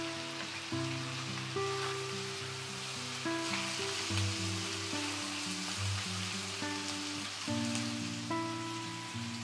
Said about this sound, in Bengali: চিকেনটা মশলা দিয়ে ভালো করে কষিয়ে নেব।